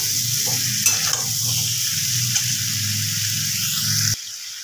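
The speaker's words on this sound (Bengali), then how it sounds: "আলুটা ভাজা হচ্ছে" Potato pieces frying in hot oil while being stirred by hand, a loud steady sizzle with spatula scrapes and clinks, ending abruptly as the sizzle drops away near the close.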